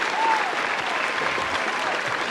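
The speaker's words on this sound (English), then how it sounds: "Round of applause for the moms." An audience claps for a couple of seconds during a podcast taping, a dense, even patter of many hands heard at moderate distance with no words.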